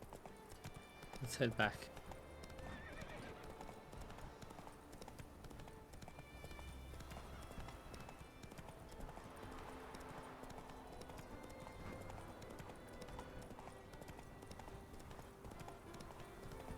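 Roach the horse galloping in The Witcher 3, a steady rapid clip-clop of hooves throughout, with a brief louder burst near the start and someone talking briefly over it.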